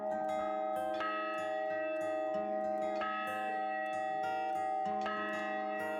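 A large bell in a hall is rung by hand, giving loud metallic strikes about every two seconds. Each strike blooms into long ringing overtones that hang and overlap in a reverberant room.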